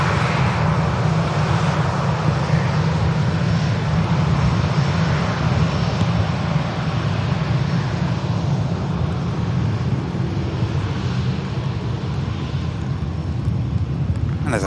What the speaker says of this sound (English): this aircraft positioning up to its original destination in Edinburgh